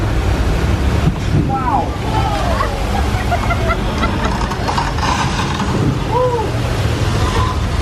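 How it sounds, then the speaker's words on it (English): Thousands of gallons of flash flood water rush down a hill at the Universal Studios Hollywood tour, a steady loud roaring wash that fills the whole stretch, with an excited voice exclaiming over it. "Thousands of gallons of water come rushing down the hill"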